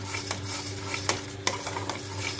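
Onion with ginger garlic paste stirred in a pan, with a soft sizzle under a few sharp metallic scrapes and clicks of the spoon against the pan, close up and without speech.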